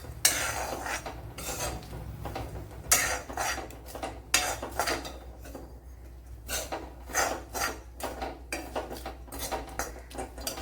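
Cardamom, cloves, fennel seeds and curry leaves dry-roasting in a pan, stirred with a utensil in bursts of close, rasping scrapes and clinks separated by brief pauses, with no talk.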